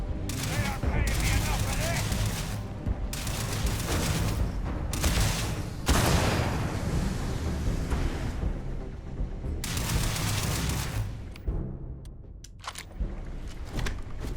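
Laser rifle gunfire in Starfield, a long run of repeated shots and energy blasts amid loud combat noise, with talk mixed in under the firing.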